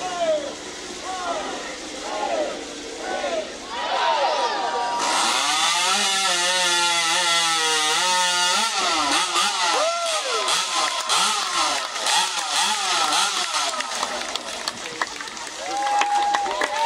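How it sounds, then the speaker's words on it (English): Racing saw at a lumberjack saw race, a special non-ordinary chainsaw, revs in rising and falling engine whines, then cuts at a loud sustained snarl close by, with shouting and voices mixed in. "Here, I got to tell you about this saw."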